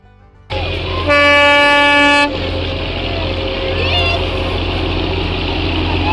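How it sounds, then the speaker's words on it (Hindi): Darjeeling toy train arriving at Ghum station, India's highest railway station, sounds a loud, sustained horn blast lasting about a second over a steady low rumble of engine and station background. "तो ये टॉय ट्रेन आ गई है, पूरे शहर में आपको घुमाती है"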